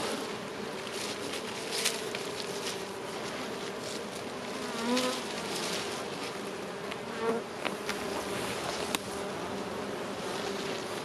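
Honeybees buzz steadily around a hive set behind a large hedge, a dense, continuous insect drone with a few louder passes near the microphone.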